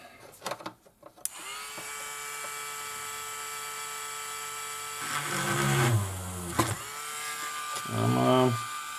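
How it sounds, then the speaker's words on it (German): A power drill whines steadily at a high pitch, then its motor bogs down and revs back up twice as it bites into material, drilling a hole in an LGB 2095 model locomotive, close by. "ich werde jetzt hier neben diesem Loch ein Loch bohren"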